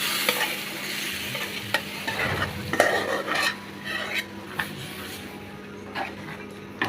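Vegetables, small potatoes and sweet pumpkin stalks, are stirred in a frying pan. A utensil scrapes and knocks against the pan at an irregular pace over a steady background sizzle, close up, with no talking.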